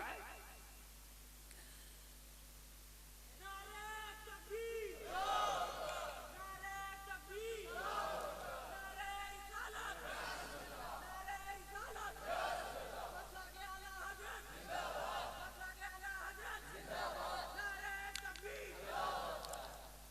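An audience chants a slogan at a religious lecture, a leader's call answered by rhythmic group shouts repeated about every two and a half seconds, loud and reverberant in a large hall.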